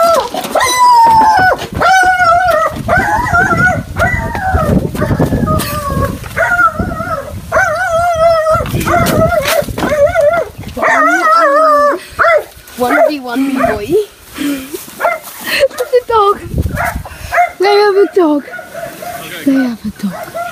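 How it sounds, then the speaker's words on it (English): A dog barks and yelps in a suburban backyard during a knock-and-run prank, its repeated barks mixed under loud, excited talking and shouting throughout. "They have a dog."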